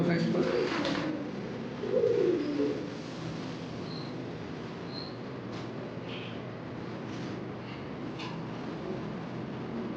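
A large fancy-breed pigeon coos softly nearby, a short throaty burst early on, with faint bird noises and people talking quietly in the background.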